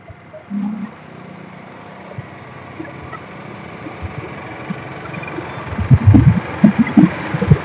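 Two-wheeler engine on light throttle while riding up a flyover, a steady low drone with small surges and rumbles growing stronger toward the end.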